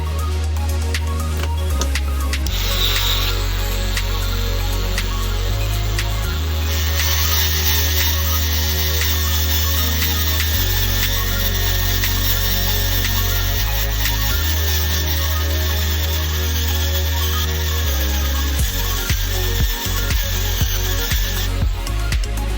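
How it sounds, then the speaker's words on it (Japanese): A small rotary grinding tool drones steadily and loudly, shifting pitch as it bites, while it grinds down plastic interior parts of an Aoshima GRS202 Crown patrol car scale model, with no talk. "かなり広範囲ですけど、一旦このくらいで削ってみます。"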